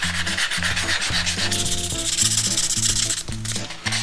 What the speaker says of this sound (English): Let's give her a nice sand.